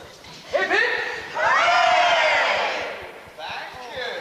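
A crowd of singers on stage gives a hearty cheer: a short shout, then a long sustained hurrah, then another burst of cheering, loud and close with overlapping voices.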